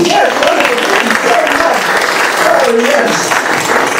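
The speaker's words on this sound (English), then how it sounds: "A round of applause, please" An audience claps in a continuous round of applause at a live performance event, loud and close, while a voice talks over the clapping.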